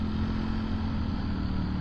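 A Ducati Streetfighter V4 motorcycle engine with its Twin Pulse firing order runs steadily and loud, a continuous rumbling drone with no break and no voices over it.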